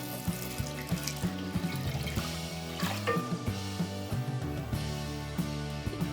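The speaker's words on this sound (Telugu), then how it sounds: "గిన్నె పెట్టుకొని పాలు వేసుకుందాము" Milk pours steadily into a pot on a stove, a continuous splashing stream heard beneath loud background music.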